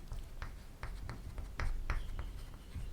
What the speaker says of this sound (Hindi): मैं इधर लिख दे रहा हूँ,